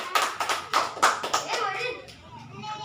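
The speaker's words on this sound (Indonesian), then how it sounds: "Tepuk tangan untuk saudari Maureen." A few distinct claps ring out in a classroom for a student, loud at first and then thinning, with children's voices and chatter over and after them.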